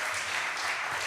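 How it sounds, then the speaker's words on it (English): A rally crowd at a clean money democracy event applauds Senator Ben Allen, a brief wash of dense clapping from many people, steady and loud throughout. "Huge round of applause to Senator Ben Allen"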